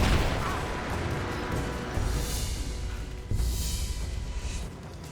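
Gunfire in the video game Rise of the Tomb Raider, a dense mix of booming shots and crashing bursts that swell at a couple of points over a steady, loud battle din.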